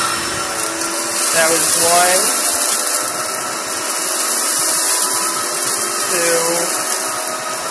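A Kenmore 600 series bagless vacuum cleaner runs with a steady high whine while sand spins and rattles inside its bin. A voice counts aloud over the continuous motor noise.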